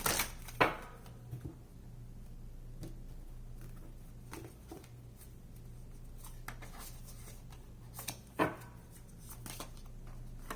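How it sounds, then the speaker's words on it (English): Tarot cards shuffled by hand: soft, quiet riffles and flicks with a couple of sharper snaps near the start and near the end, over a faint steady hum and no voices. "One more shuffle."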